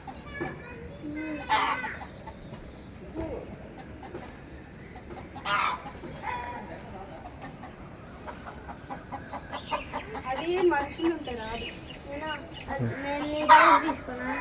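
Chickens cluck and squawk in short bursts around a village yard while children's voices and people talking carry on nearby.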